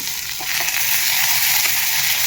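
Tomato added to browned onion frying in hot oil, a loud continuous sizzle with light stirring scrapes at close range and no voices.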